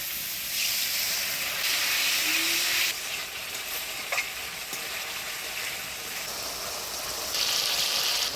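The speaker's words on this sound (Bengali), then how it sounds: "এবার অল্প জল দিয়ে ভালো করে কষিয়ে নেব" Chili paste with turmeric and salt, loosened with a little water, sizzles and hisses steadily in a hot pan for a potol and prawn curry, a dense close frying crackle with occasional stirring scrapes and no voices.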